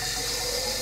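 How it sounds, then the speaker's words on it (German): Water pours steadily into a pot of cooking corn porridge, a close, even hiss and rush that continues without break. "So, ich glaube, ich gebe noch ein bisschen Wasser dazu."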